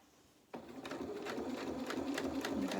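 A home sewing machine stitching a straight seam with a 1 cm allowance, starting abruptly after a moment of quiet and running as a close, steady mechanical whir with a rhythmic needle tapping.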